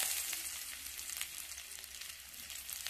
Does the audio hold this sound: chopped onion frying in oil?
yes